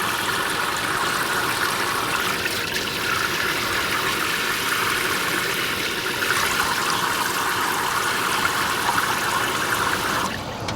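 A portable camping shower pump sprays water steadily into a bucket, a loud, continuous close-up hiss and splash that holds evenly for about ten seconds before cutting off.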